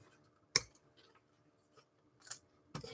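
Small scissors trim the thread on a recycled-art angel ornament, giving one sharp, close snip followed by a couple of softer clicks in an otherwise quiet room with no talking.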